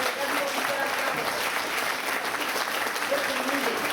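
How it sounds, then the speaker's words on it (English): Audience applause at a birthday celebration, steady dense clapping from a crowd filling the whole stretch at an even level, with faint voices mixed underneath. "everybody start clapping"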